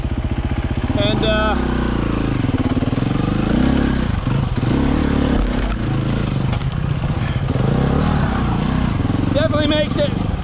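An enduro motorcycle climbing a wet, frosty, slippery trail, its engine loud and close throughout, revving and labouring with shifting pitch as the rider works up the slope.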